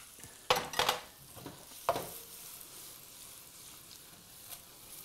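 Onions and garlic frying in oil in a pan, a faint low sizzle with a few sharp clattering knocks of utensil against pan near the start, then quieter hissing.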